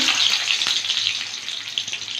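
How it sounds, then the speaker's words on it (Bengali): Chopped garlic sizzles in hot mustard oil already tempered with dried red chillies and nigella seeds. A close, bright, crackling fry runs continuously, with a few louder pops and no speech. "তিন কোয়া রসুন কুচি দিচ্ছি"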